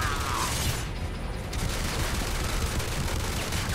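Gunfire in the video game X-Men Origins: Wolverine, a dense, continuous rattle of automatic weapons that stays loud throughout with no pauses.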